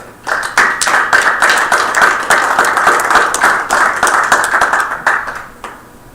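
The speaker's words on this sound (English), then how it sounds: "So let's give a round of applause." A board meeting gives a round of applause: many sharp, close hand claps in an uneven but continuous rhythm, loud and steady for about five seconds before trailing off, with no talking over it.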